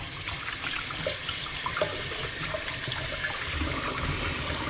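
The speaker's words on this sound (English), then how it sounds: "I'm just gonna wash my hands" Hands washed under a running kitchen tap in a home kitchen, a constant close hiss of flowing water splashing into the sink with small irregular spatters throughout.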